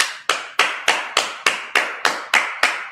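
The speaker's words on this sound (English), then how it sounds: "All right, clap it up." Steady rhythmic clapping during a Sabbath service, about ten sharp unison claps evenly spaced roughly every third of a second, close and clear with no talk.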